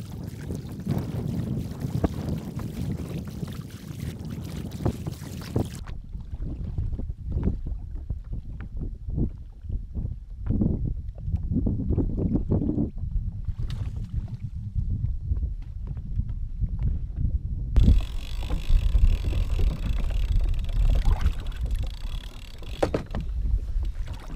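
A fishing boat heads out toward a redfish spot in the early morning. Gusty wind roars and buffets against the hull and water noise, and the sound drops out and returns in uneven stretches.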